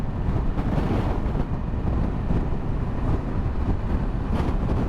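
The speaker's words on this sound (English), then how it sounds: "It's very breezy. The breeze is actually supposed to pick up." Strong wind buffeting outdoors in Norway during a motorcycle tour, a constant loud low rumble of gusts on the microphone with no talking.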